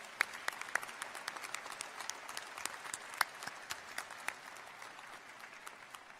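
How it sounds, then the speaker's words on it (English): Scattered, moderately faint applause at a commencement ceremony honoring a brass ensemble, individual claps distinct within a thinning crowd sound that fades toward the end. "another round of applause for Dr. Simon Estes and the brass ensemble."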